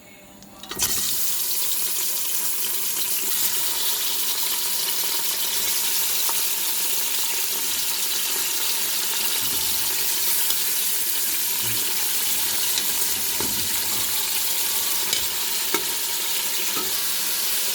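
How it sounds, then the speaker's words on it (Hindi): Loud, steady sizzling of mutton chops frying in hot oil, continuous throughout with occasional stirring clinks and no talking. "अब उसी ऑयल के अंदर हम डाल देंगे गोश्त"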